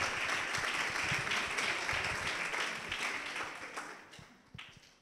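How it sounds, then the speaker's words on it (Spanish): An audience at a PechaKucha night of short science talks in Salamanca gives a warm round of applause, steady and full at first, then gradually thinning out to a few last claps. "Un fuerte aplauso para Jorge Hernández"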